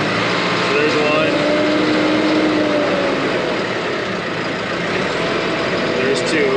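A heavy engine climbs smoothly to a preset RPM and then holds a loud, steady drone, with someone talking over it.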